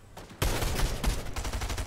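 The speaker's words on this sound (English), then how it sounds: "There's also gunshots behind us." Rapid gunfire from the Fortnite video game bursts in abruptly after a brief quiet moment, continuing as loud, closely spaced shots with a dense, rattling rhythm.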